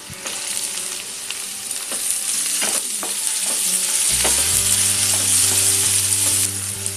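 Tomato hits a hot pan of onion fried for two minutes with ginger-garlic paste over full flame for a dried bombil chutney, giving a loud, continuous sizzle broken by scraping stir strokes.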